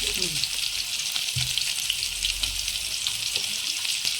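Onions sizzling in hot oil for a village-style mutton curry, a steady moderate hiss of frying with a few faint stirring sounds and brief low background noises, no speech.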